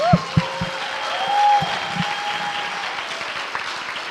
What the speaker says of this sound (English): Let's please give another warm round of applause for all the students who were nominated and won a Slammy tonight